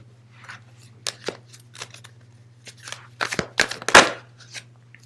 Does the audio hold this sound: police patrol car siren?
no